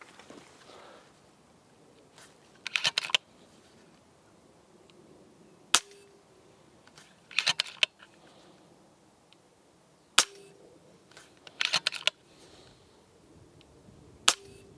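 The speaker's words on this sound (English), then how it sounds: "You can decock the rifle as well by holding it back, pulling the trigger and letting that go forwards" An FX DRS Classic .22 air rifle is decocked, the trigger pulled and the lever let forward, giving sharp mechanical clicks and snaps. Short clusters of rattling clacks repeat several times over a quiet background.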